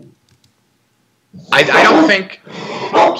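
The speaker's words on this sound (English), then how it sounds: "That's my dog. He's just a little rowdy." A rowdy dog growls and yips close by in two loud bursts, partly overlapping a person talking.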